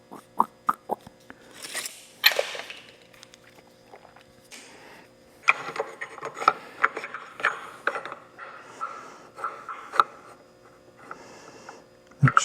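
A small manual tubing notcher works through 1.5-inch steel tubing in a series of irregular metallic clanks, ratcheting clicks and grinding scrapes, close and fairly loud, with short pauses between strokes.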